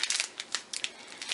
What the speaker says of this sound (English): I'm just going to take my scissors and just trim the tip off of this